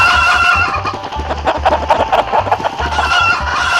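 Chickens clucking in a video game, a dense, steady flock chatter of clucks and squawks that runs throughout over a low rhythmic game music pulse.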